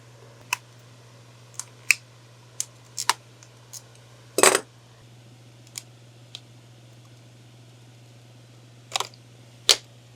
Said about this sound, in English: First thing I'm going to do is cut this plastic.